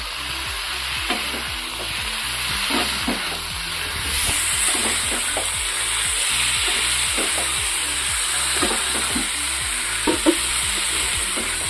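Potatoes being stir-fried in a pan for a vegetarian pointed gourd and paneer dish, a steady loud sizzle with rhythmic scraping stirs and spatula clicks, close and continuous, no talk.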